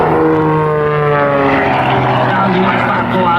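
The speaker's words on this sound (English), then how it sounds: "Go out there, fly that airplane around, goes into the vertical, hanging on." Aerobatic propeller airplane flown by Bob Richards at an airshow, its engine roaring steadily and loud with a droning pitch that shifts as it climbs into vertical manoeuvres, close and continuous throughout.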